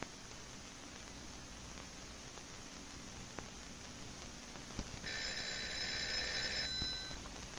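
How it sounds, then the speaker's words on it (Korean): An indoor telephone rings in a short electronic burst partway through, faint and fairly distant over quiet room tone, with no one speaking. "박영진이 전화를 받습니다."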